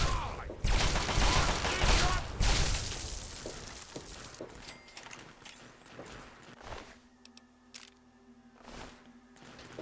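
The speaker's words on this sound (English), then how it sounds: "And he has a fucking Gatling laser." Gatling laser fire in Fallout 3 comes as a dense burst of rapid zapping shots that fades into scattered impacts and footsteps, with some faint talk underneath.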